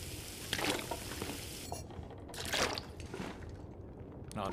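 Water poured from a container in the survival game The Long Dark, two soft splashing pours with a gap between them, fairly quiet, with no talk.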